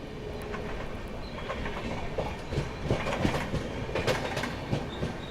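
Howrah Jodhpur Express running near Tundla Junction at sunset, with a steady rumble and clatter of wheels and carriages, moderately loud and close, with rhythmic clicks and brief squeals over the continuous roll.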